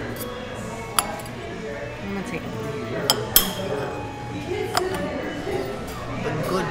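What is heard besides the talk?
cutlery clinking while chopping asparagus on a plate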